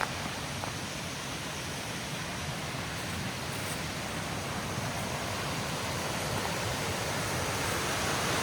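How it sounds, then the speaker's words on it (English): Steady broadband rush of water at Naval Run Falls in the Black Forest, a continuous, fairly close roar with no talk over it. "Navel Run Falls there in front of us"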